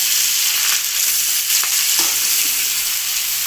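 Chopped onions frying in oil in a pan alongside bay leaves and dried chillies, a steady loud sizzle with occasional scraping and stirring taps throughout.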